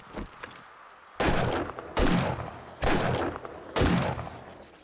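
Four loud, evenly spaced gunshots from a weapon in the video game 7 Days to Die, each a heavy close blast with a short decaying tail and quiet gaps between.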